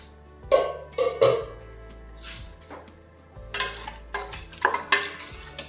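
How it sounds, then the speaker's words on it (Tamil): Chicken biryani being stirred in a pressure cooker with a splash of hot water: a spoon scraping and clanking against the metal pot in several irregular bursts, close up, with light sizzling between strokes and no talk. "அதையும் சேர்த்து நல்லா கிளறி விட்டுடலாம்"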